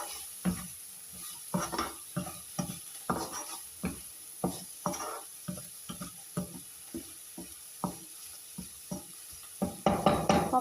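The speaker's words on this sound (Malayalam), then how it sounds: "ഉപ്പിട്ടതിന് ശേഷം നന്നായിട്ട് ഇളക്കാം." Onions sauté with salt in a pan for a papaya coconut milk curry. A spoon scrapes and taps in a steady rhythm over a soft sizzle, with a busier flurry of stirring at the end and no voices.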